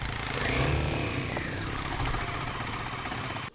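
A motorcycle engine labors steadily on a steep uphill road, a loud continuous mid-pitched drone with rough vibration and wind noise, holding an even strain throughout.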